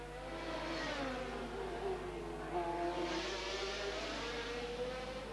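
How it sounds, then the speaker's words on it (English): A 1988 Reynard Formula 3000 race car at Pau screams past at high revs, its engine note rising and falling steadily through gear changes. It is loud and continuous with no talk over it. "the Reynard of Roberto Marino on his way towards victory here at Pau"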